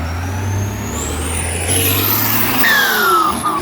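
A Ford pickup truck engine revs hard nearby, a rough low rumble beneath a rising, whining pitch that climbs as it accelerates.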